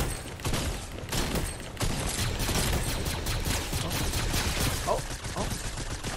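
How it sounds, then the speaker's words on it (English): Gunfire from a Star Wars-style blaster in the video game Fortnite crackles in rapid, dense volleys through the whole stretch, steady and fairly close, with faint shot impacts mixed in. "Oh, I'm getting shot."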